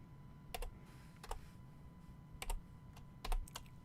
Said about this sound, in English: I gotta type in a password